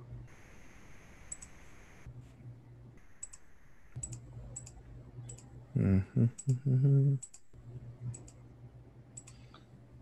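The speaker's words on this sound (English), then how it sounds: "Your mouse clicks really loud there" Sharp, close computer mouse clicks in irregular clusters at a desk while a trader works through research and spreadsheets, with a brief quiet voice murmuring partway through.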